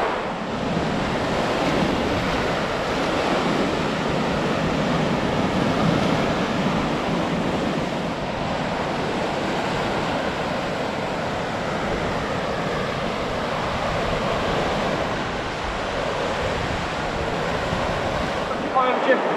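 Wind and surf roar continuously on a windy beach, loud and close, with a steady broadband rush of waves and wind buffeting the microphone throughout.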